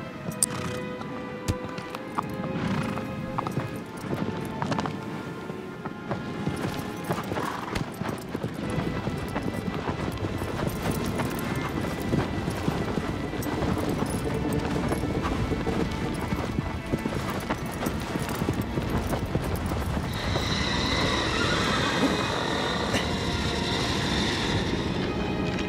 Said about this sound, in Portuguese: Vou pegar meu cavalo e vou atrás dele.